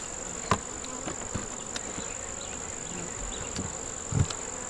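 Honeybees buzz continuously around hive number 302, a busy apiary in nuc boxes, forming a steady close drone with a few brief louder passes and soft knocks, no talking.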